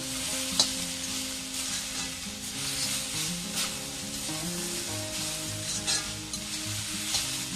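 Chickpea greens sizzle steadily in a pan while a spatula stirs and scrapes them, with occasional soft clicks over a continuous close crackle and a faint low hum underneath.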